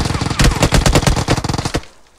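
Rapid Uzi fire in a video game crackles in a fast burst of about a dozen close, loud shots, then cuts to quiet.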